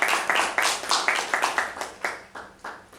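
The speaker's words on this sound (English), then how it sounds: "Please give a round of applause to our shoot master" Small meeting audience clapping for the Toastmaster, a sparse group of distinct claps in an uneven rhythm, close and clear, thinning out over a few seconds with no talking.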